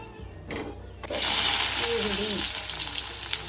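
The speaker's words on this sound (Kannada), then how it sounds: "ಸ್ವಲ್ಪ ಸಾಸಿವೆ, ಸ್ವಲ್ಪ ಜೀರಿಗೆ ಹಾಕ್ಕೋಬೇಕು, ಕರಿಬೇವು ಹಾಕ್ಕೊಂಡು" Mustard seeds, cumin and curry leaves hit hot oil for an okra stir-fry, and a loud, steady sizzle jumps up about a second in. It carries on to the end with a brief voice-like murmur partway through.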